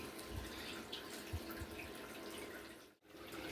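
Water runs steadily through a gold sluice washing material, a constant close wash with small splashes and trickles and no voices.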